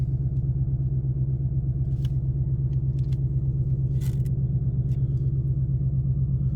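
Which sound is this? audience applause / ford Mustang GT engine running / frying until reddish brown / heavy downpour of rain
ford Mustang GT engine running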